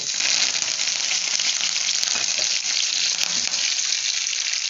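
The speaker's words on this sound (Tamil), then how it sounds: "இப்போ நம்ம கருவேப்பிலை போட்டுருவோம்" Curry leaves drop into hot oil in a pan for a brinjal and cowpea thokku, setting off a loud, dense, continuous crackling sizzle up close.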